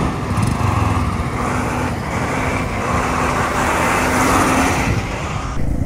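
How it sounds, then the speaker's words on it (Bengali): Several trucks roll past one after another on a dark, muddy road on the way from Siliguri toward Lachen, making a loud, close engine drone that rises and falls as each passes, and nobody speaks. "4খানা লরি যাচ্ছে"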